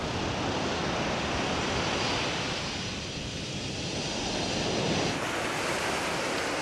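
Surf rolls in steadily on a quiet stretch at the southern end of Patong Beach, Phuket, a dense continuous wash of breaking waves and wind noise, fairly loud and unbroken, with no voices.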